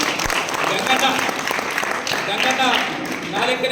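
An audience at a Constitution Day celebration in Medak claps in sustained, fairly even applause while someone speaks over it.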